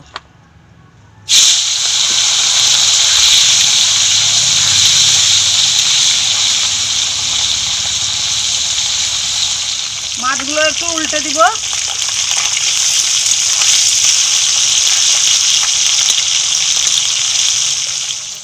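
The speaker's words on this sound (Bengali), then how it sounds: "তেল গরম হয়ে গেছে মাছগুলো ভেজে নেব" Pieces of snakehead fish fry in hot oil in a pan, giving a strong, continuous close hiss and sizzle that holds steady, with a brief spoken phrase partway through.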